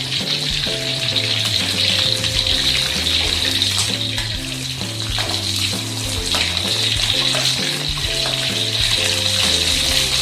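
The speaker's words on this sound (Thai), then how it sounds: "เมื่อน้ำมันเดือดนะครับ แล้วก็ใส่กระหล่ำปีลงไปทอดนะครับ ทอดให้เหลืองนะครับ" Cabbage frying in boiling oil gives a steady, dense sizzle and crackle throughout. Music plays underneath and no voices are heard.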